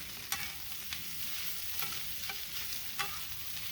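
Beef fried rice fries on a Big Green Egg grill, a quiet steady sizzle broken by sharp scraping clicks of a spatula every half second or so, close by with no voices.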